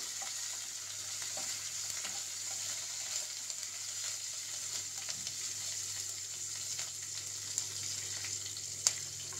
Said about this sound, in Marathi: आणि मिरची परतून घेऊया आपण चांगलं